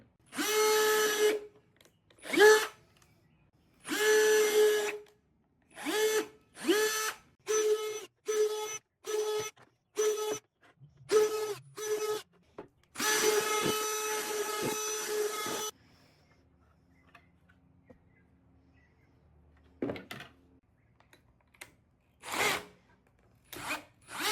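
A power drill with a 1/2-inch bit bores a series of holes into the side and bottom of a plastic worm compost bin, in repeated whirring bursts of varying length with short pauses between, close and clear.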